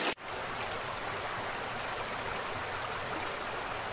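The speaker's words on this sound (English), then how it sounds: "Rain!" Heavy rain falling nonstop, a dense, even hiss of steady downpour that begins abruptly and carries on without a break.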